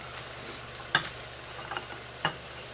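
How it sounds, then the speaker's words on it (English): Steaks frying on a griddle with a soft steady sizzle, plus a few sharp metallic clinks and scrapes standing out above the hiss. "While we're waiting for our steaks to cook"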